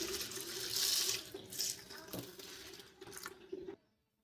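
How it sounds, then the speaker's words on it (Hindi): Lentils and rice being rinsed with water in a large pot, running tap water splashing and swishing steadily for several seconds before stopping abruptly, with no talking. "दाल और चावल को एक बड़े बर्तन में निकाल लेंगे इसे हम अच्छे से दो या तीन पानी से धुलकर साफ कर लेंगे"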